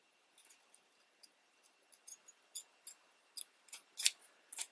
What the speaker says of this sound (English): So you can trim slightly under, and then you just cut off a sliver.